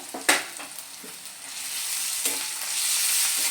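Ginger paste and garlic paste go into a hot pan and fry with a bright, loud sizzle right after a sharp clatter, continuing steadily with light stirring taps and no voices.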